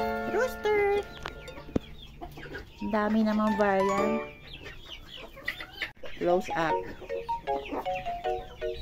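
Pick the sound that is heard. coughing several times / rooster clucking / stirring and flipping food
rooster clucking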